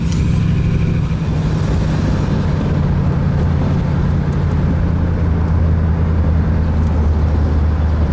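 A 1964 Studebaker Daytona convertible with a 259 V8 cruises along, its steady low engine drone and road rumble loud and continuous throughout, with no voices over it.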